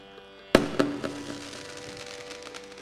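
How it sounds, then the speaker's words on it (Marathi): Firecrackers go off near a devotional bhajan performance: one sharp, loud bang, a smaller pop right after, then a fading rumble and faint background noise. "मी बोलायला गेलो इकडे स्फोट होतोय."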